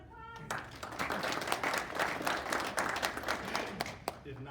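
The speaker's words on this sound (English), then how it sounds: "let's give him a big round of" A round of applause at a middle school Monday gathering: steady, dense clapping from a group that rises quickly, carries on for several seconds and tapers off at the end.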